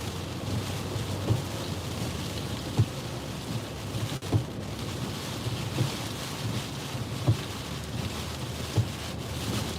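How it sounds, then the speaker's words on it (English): Steady rain from Tropical Storm Isaias near Myrtle Beach, South Carolina, a constant dense hiss with faint low rumbles, heard from inside a truck with no talking. "Been quite a bit of rain coming up the coast today"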